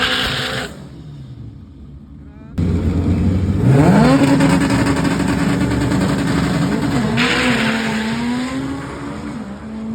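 A Honda Civic all-wheel-drive car races a front-wheel-drive car at a drag strip, engines revving loudly then winding up through rising acceleration with a gear change, close and continuous, no voices.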